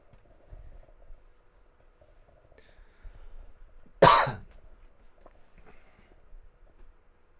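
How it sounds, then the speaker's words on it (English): A single sharp cough from a person sketching at a desk breaks an otherwise quiet room, near and abrupt, with faint scratching and small rustles around it. "Excuse me, I have a cough."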